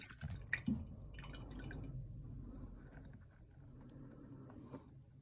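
Dirty, foul-smelling water that has sat in a washing machine's drain filter pours out, with a few drips and splashes at first, then a steady trickling flow running close by.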